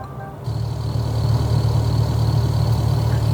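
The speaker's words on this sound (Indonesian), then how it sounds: "Dan kalau yang engine suaranya gini." A Neta V-II electric car plays its engine-mode pedestrian alert, a synthetic diesel-like idle that kicks in after a brief pause and then drones as a steady low rumble, close and loud with no pauses.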